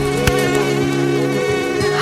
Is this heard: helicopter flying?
no